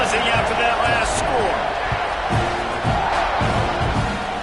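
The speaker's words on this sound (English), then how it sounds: "this crowd is buzzing after that last" A stadium crowd in College Football 26 keeps up a loud, steady roar right before a kickoff, with a few dull thumps and a commentator talking over the noise.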